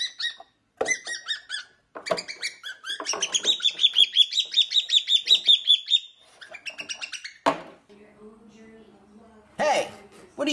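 A pet bird gives bright, rapid chirps and squeaky tweets in close, repeated bursts, with a denser trilling run in the middle and quieter low sounds near the end.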